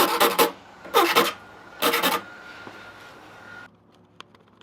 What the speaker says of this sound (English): I'm sanding down all the burrs so that there's no sharp edges